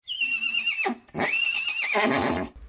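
Person imitating a horse neigh with the voice, two loud close whinnying calls with shrill wavering pitch that falls away at the end.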